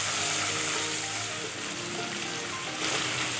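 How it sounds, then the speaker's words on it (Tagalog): Chicken pieces and gizzard browning in a hot pan for Kapampangan bringhe, a steady, close, loud sizzle and crackle of frying that holds evenly throughout. "Papabrownin lang natin itong chicken"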